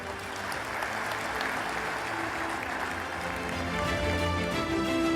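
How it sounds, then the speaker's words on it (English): Continuous audience applause fills a large hall at the Global Cybersecurity Forum 2024 opening ceremony, a broad steady wash of clapping with faint tonal background music underneath, swelling slightly toward the end. "Please join me in giving them a round of applause"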